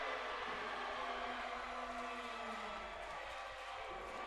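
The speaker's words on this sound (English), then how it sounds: "Crowd loves it." Indoor crowd cheering at a women's college volleyball match against St. Norbert College, a steady broad roar of voices filling the gym throughout, moderately loud and unbroken.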